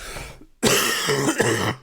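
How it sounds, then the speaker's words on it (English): A short throat noise, then two loud, close coughs in quick succession, harsh and forceful, with a brief silence before them. "Hold on, I'm going to cough."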